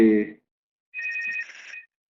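A telephone rings during a live presentation, a bright electronic trill lasting about a second and heard clearly in a quiet room just after a brief voice fragment.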